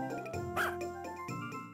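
A dog in the farming video game Harvest Moon gives a few short, clean electronic barks that sit up front with no talking over them.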